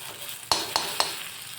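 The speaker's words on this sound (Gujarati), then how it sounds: "ડુંગળી આપણી ગોલ્ડન બ્રાઉન થઈ ગઈ છે એટલે મેં 1 ચમચી જેટલી લસણની ચટણી લઈ લીધી છે" Garlic chutney frying with golden brown onions in a pan: a soft steady sizzle broken by three quick, sharp stirring scrapes, close and clear with no voices.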